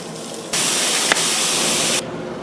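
Sausage sizzling in a frying pan for an Italian pasta pie, a steady broadband hiss that swells suddenly, holds loud and close for about a second and a half with a brief sharp pop, then drops back to a quieter low sizzle.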